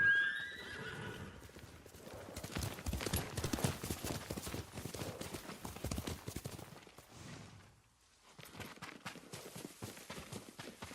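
A horse whinnies and hooves clatter in a busy, layered Ghost of Tsushima game soundscape, with a brief drop in level before the noise resumes.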